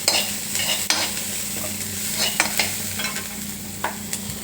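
Garlic pieces and onions sizzle in a pan alongside green chillies as a spatula stirs them, with irregular close scrapes and taps over a low continuous crackle and no talking.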